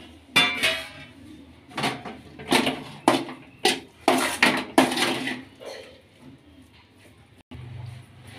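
Raw mango chitranna rice being mixed in a metal vessel, with a run of close, sharp clanks and scrapes of a spoon against the pot, then a quieter stretch near the end.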